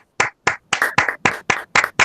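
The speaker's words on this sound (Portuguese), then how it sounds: "A gente não pode aplaudir, podemos aplaudir, claro." Slow, evenly spaced hand claps, about eight sharp distinct claps at a steady rhythm, close and clear with silence between each, from a small group during a lecture on computer history.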